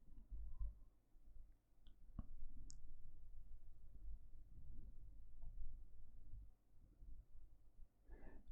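A computer mouse clicks a few times, sharp and isolated against a quiet room hum, close to the microphone with no talking.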